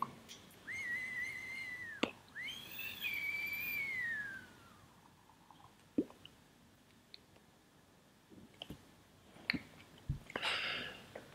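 A Kayfun 3.1 clone vaping atomizer gives a thin, steady whistle on each draw, two pulls in the first four seconds, followed by quiet clicks, taps and a soft hiss.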